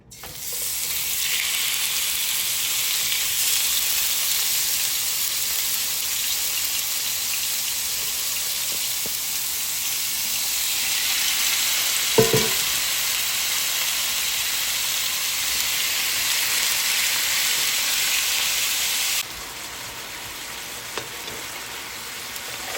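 Chicken thigh meat frying in about three tablespoons of hot oil, a loud, steady, hissing sizzle that runs almost unbroken, with one brief clunk midway before the sizzle drops a little quieter near the end.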